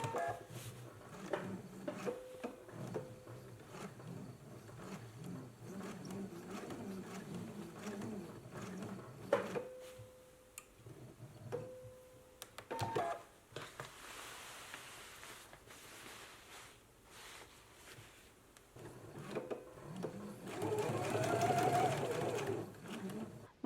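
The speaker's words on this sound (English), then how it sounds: "I'm going to pivot and stitch back up about 1 inch" A home sewing machine runs in short reinforcing bursts, its buzzing motor stopping and restarting several times across the stretch before a longer, louder run at the end, close and alone with no voices.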